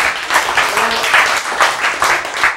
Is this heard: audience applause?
yes